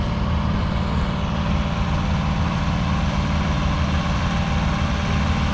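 A small diesel engine on a 1964 Ford utility tractor runs steadily at a parade, a loud, continuous low rumble with no pauses.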